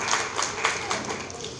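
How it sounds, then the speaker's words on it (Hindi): An audience at an NGO annual general meeting applauds to welcome a speaker, with a light spatter of handclaps heard beneath a voice. "जोरदार तालियों से स्वागत करेंगे।"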